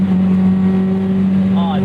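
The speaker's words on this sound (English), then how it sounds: "Ah, nice and sharp throttle response." A 2001 Toyota MR2 Spyder with a 2ZZ engine swap holds a steady, loud engine drone close by, blipping with a quick rise in pitch near the end.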